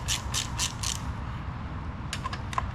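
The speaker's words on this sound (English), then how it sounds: "I got a 12mm socket to go around all the edges" A ratchet with a 12mm socket clicks on a Honda BF90A outboard lower unit, two short bursts of rapid ratcheting clicks separated by a pause, close and crisp over low background noise.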